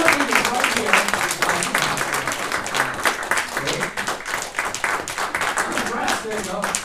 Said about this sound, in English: Please give Michael a warm round of applause and welcome.